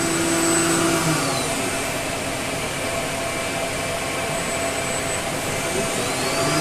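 A Star SR-20RIII CNC Swiss lathe spindle runs close by, a loud, steady high-pitched whine with a few faint tones rising and fading.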